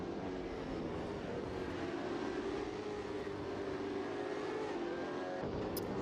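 V8 race cars in Assetto Corsa at Sandown Raceway, braking hard into turn one: a steady, loud engine drone with a dense mechanical roar held throughout, no voices.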